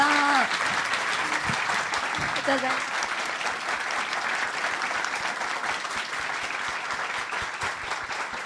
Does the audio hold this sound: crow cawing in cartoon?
no